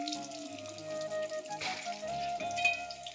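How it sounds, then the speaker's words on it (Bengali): Slices of eggplant (begun bhaja) fry in hot oil as part of a home-cooked feast, giving a steady, soft sizzle with light crackling that holds through the whole stretch without any voices. "বেগুন ভাজা হচ্ছে"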